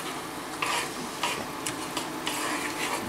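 Pancetta and peas cook in a pan, giving a steady close sizzle broken by a few brief clinks and scrapes from stirring.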